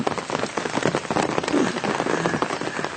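Rain falls on rice seedlings in a paddy field after a long drought. The patter is dense, steady and close, with scattered louder drops and no voices.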